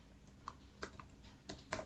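Typing on a computer keyboard, a few scattered, quiet key clicks at an irregular pace over a soft background hum, with no talk.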